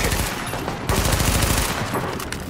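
Rapid automatic gunfire in the Tom Clancy's The Division shooter game, dense continuous bursts filling the short stretch, loud and close.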